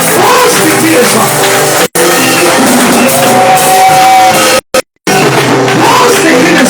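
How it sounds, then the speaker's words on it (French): A crowd at an international gathering shouting cries of joy, a loud, dense roar of many voices that carries on steadily, with two brief cuts to silence along the way. "Oh, c'est les cris de joie."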